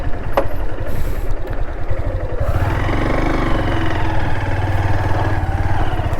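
A motorbike engine idling steadily and close while being parked on sand at a beach, a continuous low throbbing rumble with a slight rise partway through, no talk.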